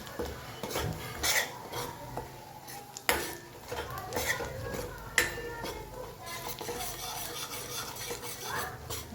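A masala mixture is stirred in a cooking pot with a spoon scraping and clinking against the metal. Steady scraping continues throughout with a few sharper knocks, under someone talking.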